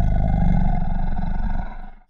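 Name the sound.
low snorting growl of a werewolf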